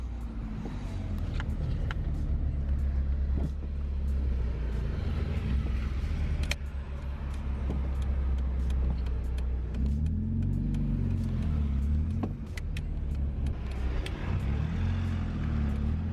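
A Ford Fiesta Zetec S engine hums steadily from inside the car, with low rumbling and occasional revving as it drives and speeds up, no talking.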